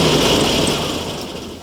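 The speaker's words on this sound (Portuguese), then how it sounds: "a faísca da vela está muito adiantada e a rotação do motor é menor. Então por isso que o motor fica irregular." A Volkswagen Variant engine running irregularly with the spark timing too far advanced, a loud, rough, rumbling idle with uneven pulsing, close up and alone.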